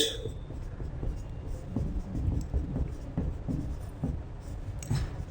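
A pen or marker writes notes during a chemistry lesson on atomic structure, steady close scratching strokes in a continuous flow with no talk over them.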